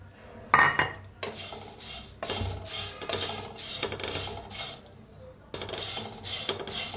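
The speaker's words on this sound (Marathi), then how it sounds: "आता गॅसवर ठेवल्या कडाई आता फव आपण जरा भाजून घेऊया" Flattened rice dry roasting in a kadai, heard as repeated scraping and rustling strokes of a spoon against the pan in uneven bursts with short pauses.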